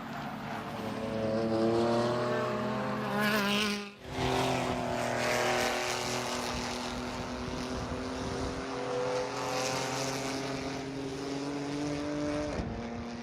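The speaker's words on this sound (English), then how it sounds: "The Mustang that just blew by the front straight there, Brendan, just set their fastest lap" A Ford Mustang race car at a WRL endurance race at Sebring blasts down the front straight, its engine roaring loud and close, pitch sliding as it passes, with other car noise behind.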